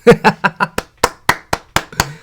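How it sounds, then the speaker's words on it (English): About ten separate, sharp hand claps at an uneven, roughly steady beat, close and loud, from a small group or one person applauding actors, with nothing else heard between the claps. "Clap it up for the actors."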